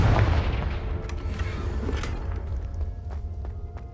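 A Confringo spell explosion in Hogwarts Legacy starts as a heavy, rumbling boom that fades slowly, with scattered thuds and crackles following.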